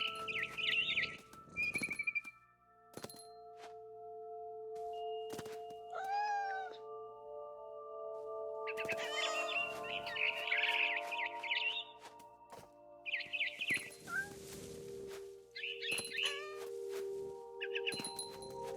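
A cat and a frightened barn swallow in the video game What Remains of Edith Finch: bursts of high, rapid bird chirps and twitters alternate with cat meows and a yowl over a steady low hum, with no talking.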